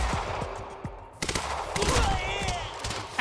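Gunfire in the Quantum Break shooter: sharp sniper shots and rattling bursts crack close by, with a brief lull before a heavier volley and whizzing effects trailing after.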